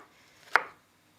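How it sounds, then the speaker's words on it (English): A knife comes down once on tomato on a cutting board, a single close, sharp chop against a quiet background. "So we're just going to chop this into small pieces"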